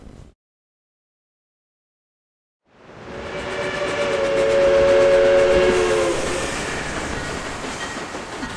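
A train in a film sounds a long, steady steam whistle over rumbling rail noise, loud and sustained, rising out of near silence after a short opening sound.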